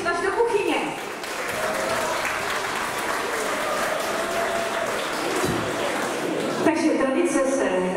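Steady, dense applause from a crowd at a folk dance event in Lanžhot, holding loud and even for several seconds, with a voice speaking over it at the start and again as it fades at the end.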